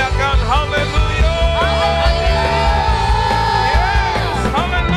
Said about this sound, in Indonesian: Berikan sorak-sorak. Semua teriakan haleluya.